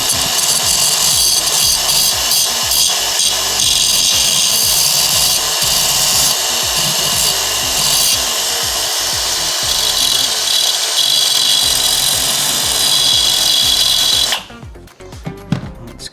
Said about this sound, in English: So we'll get the sander and we'll do this.